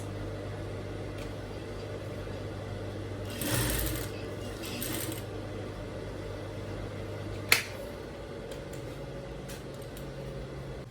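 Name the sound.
sewing machine stitching shirt sleeve horizontally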